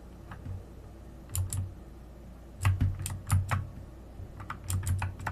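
Computer keyboard key presses while working in Blender, several short clusters of light, crisp clicks in a quiet room, with no talk.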